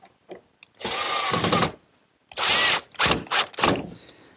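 A power drill drives a couple of screws to fix a stop on a woodworking taper jig in a workshop, giving loud, close whirring bursts: one long run, then several short pulses.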